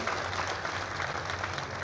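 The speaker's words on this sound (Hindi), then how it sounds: "जोरदार ताली बजा करके स्वागत करिए।" A crowd at a political rally in Rasra claps steadily in a dense, continuous wash of applause, sustained at moderate loudness with no voices breaking through.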